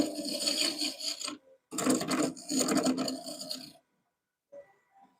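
A lathe tool cuts into hard olive wood on a spinning bowl or pen blank, giving rasping, scraping bursts with short gaps between them and a snag, then near-silence with a few faint taps at the end.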